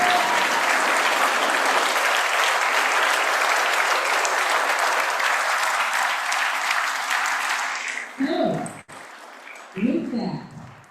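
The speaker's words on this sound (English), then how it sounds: "please, a round of applause for Nicole, our board member, and Ralph Pucci International" An audience at a jazz symposium breaks into loud, sustained applause that fades out after about eight seconds, followed by a few brief voices and bumps.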